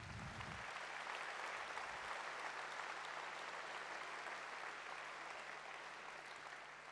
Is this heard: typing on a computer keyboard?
no